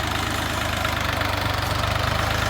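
A Scout XT-244 small tractor engine running steadily while ploughing a garden plot, a loud continuous close-up chugging drone with an even low pulse and no talk.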